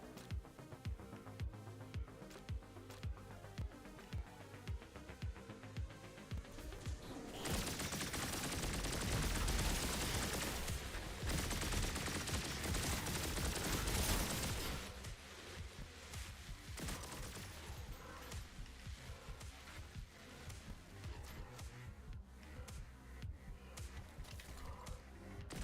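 Turrets firing in the video game Turbo Overkill, with rapid repeated gunfire bursts over game music, swelling into a dense, loud barrage in the middle before settling back to scattered shots.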